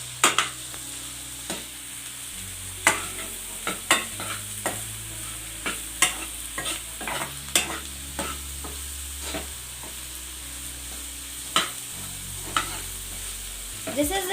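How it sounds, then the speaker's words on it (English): Potatoes frying in a pan and mixed with a spatula: a steady sizzle broken by sharp, irregular spatula scrapes and knocks against the pan, close and clear, with no voices. "Now I'm gonna mix it all up using the spatula."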